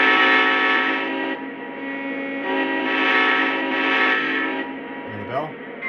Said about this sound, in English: Let's listen to the horn.